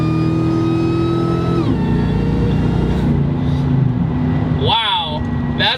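A Roush supercharger on a Ford F150 truck whines as the engine revs, a rising mechanical pitch over the steady engine drone from inside the cab; a person speaks briefly near the end.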